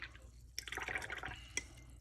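A watercolor paintbrush swishes and taps in a small container of rinse water, giving soft, close drips and splashes in a short burst.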